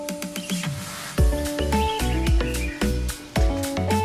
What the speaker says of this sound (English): There are plenty of sparrows.